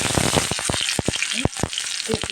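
Spice paste hits hot oil along with dried chilies and cumin seeds, frying with a loud, close, crackling sizzle while sharp pops and spatters cut through the hiss.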